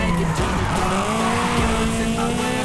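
A Toyota AE86 Trueno brakes hard in Forza Horizon 5, its tires squealing over a steady, loud engine drone for a couple of seconds, with no talk.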